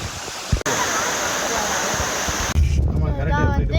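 Loud, constant roar of rushing waterfall water fills the air; near the end the roar eases and a person starts talking over it.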